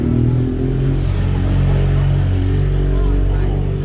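A new Ducati Streetfighter V4 motorcycle at an outdoor bike meetup in Brooklyn: a steady, deep engine rumble held close and loud, with a faint wash of background crowd noise.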